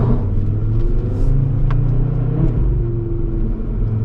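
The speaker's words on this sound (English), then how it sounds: "As a petrol head, you can't not like that 5-cylinder noise." A 2022 Audi RS3's five-cylinder engine burbles with a deep, throaty exhaust note, steady and close, rising slightly under light throttle with a warbling rumble.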